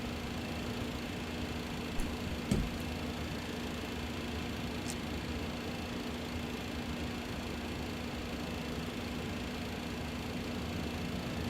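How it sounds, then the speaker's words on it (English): A McDonnell Douglas MD-11F freighter's auxiliary power unit spins up in a flight simulator, a steady low mechanical hum with a constant drone and faint hiss throughout, a couple of brief clicks early on, no voices. "APU is firing up"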